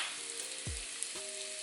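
Onions and chicken fry steadily in oil with a soft, even hiss, broken by a couple of brief low clunks, apparently a utensil or pan knocking.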